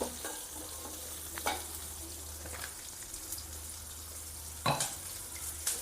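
Onion and dried fish sizzle steadily in a hot pan, with a spatula scraping and stirring now and then and one sharper clatter near the end, close and fairly quiet.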